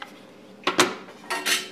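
A lid goes onto a pot of cheese curd, with a couple of close metallic clanks and a scrape, then two more rattling knocks as it settles.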